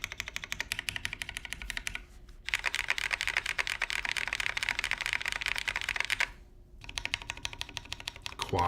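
Rapid clacking from a Daji keyboard with deep keys comes in fast, dense bursts of keystrokes, close and crisp, broken by two short pauses.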